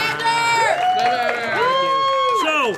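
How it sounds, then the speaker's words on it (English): Live audience at a convention show cheering and whooping, loud excited voices and shouts filling the room continuously with little clapping audible. "one huge round of applause for Xander the Blue"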